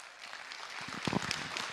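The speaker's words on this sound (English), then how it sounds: "Let's give a big round of applause to Ms. Saris." Faint applause rises from a small audience at a school board of education meeting, soft scattered clapping that builds briefly before settling.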